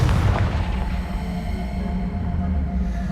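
A Confringo blast spell in the Hogwarts Legacy video game sets off a loud, sustained booming explosion with a deep rumbling low end that fills the whole moment, fading slightly toward the end.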